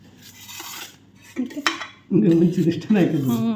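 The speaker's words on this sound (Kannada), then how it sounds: "ಸ್ಪೂನಾ ಹಾಕೋತೀನಿ ಸಾಕು" A spoon clinks and scrapes against dishes in a home kitchen, with scattered light taps at first and then a louder, busier run of rattling clinks.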